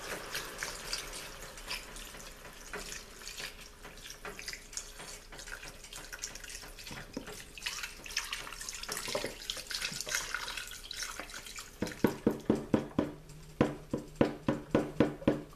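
Broth poured into a pot of oxtail stew over medium heat, a long liquid trickle and splash that turns into rhythmic glugging pulses near the end, heard close without talk.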